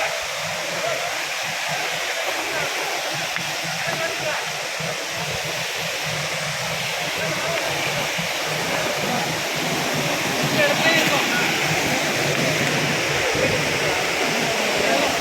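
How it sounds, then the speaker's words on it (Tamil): A loud, steady roar of rushing water from a big waterfall close by in the Pothigai hills, continuous and broadband. "நல்ல பெரிய அருவி இடம் இருக்குது"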